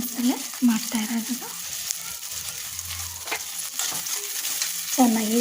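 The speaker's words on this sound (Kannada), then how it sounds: "ಚೆನ್ನಾಗಿ ಫ್ರೈ ಆಗಬೇಕು." Onion, tomato, green chilli and garlic fry in a pan with a continuous close hiss and occasional stirring scrapes. Brief tonal voice-like sounds rise over it at the start and end.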